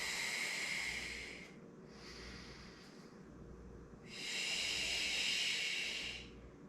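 Two long breathy exhalations during a core exercise, with a quieter, softer breath between them, close and steady with no talking.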